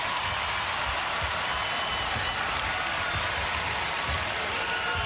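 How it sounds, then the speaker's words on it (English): Sold-out arena crowd at an NCAA women's basketball tournament game, Jackson State against UConn, roaring and applauding in a steady, dense wash of cheers and clapping that fills the whole stretch without letting up. "that last one brought this sold-out crowd to their feet"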